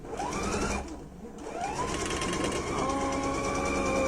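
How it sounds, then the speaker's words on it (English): Sewing machine stitching down a fold line, a fast steady whirring motor with rapid needle chatter that dips briefly and then resumes at a constant pace, close and loud. "I'm just going to sew down the line that I have the fold line"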